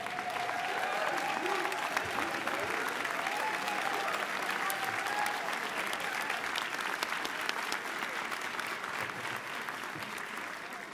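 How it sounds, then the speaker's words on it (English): Sustained applause from a large audience of Howard University alumni at the 2023 Charter Day Convocation, a steady dense roar of clapping that holds for the whole stretch, with faint crowd murmur and no clear talk. "if you can stand and give yourself a big round of applause"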